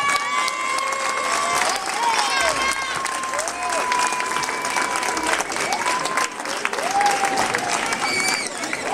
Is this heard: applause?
yes